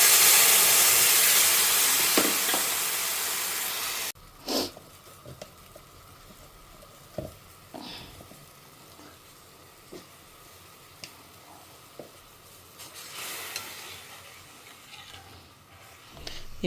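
Tamarind water poured into a hot pan with asafoetida, giving a loud hiss and sizzle at first that drops away, followed by quieter simmering with scattered clinks of stirring and a brief renewed hiss near the end.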